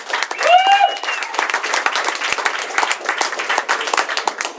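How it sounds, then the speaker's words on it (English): Audience applause for comedian Steve Nash at a comedy club show in Ottawa: a steady wash of clapping from a crowd, fairly loud and sustained, with a brief whistle near the start. "Give a nice round of applause for Steve Nash, everybody."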